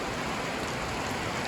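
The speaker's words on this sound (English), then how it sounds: "Don't mind the rain" Steady rain pours down as a dense, even hiss, a continuous close wash of drops with no other sounds standing out.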